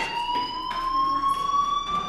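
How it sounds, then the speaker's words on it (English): A school fire alarm in the video game Life Is Strange gives a continuous, piercing electronic tone that holds steady and drifts slightly upward, moderately loud over faint background rustle, with no talking. "do you hear that fire alarm? That means you should be outside."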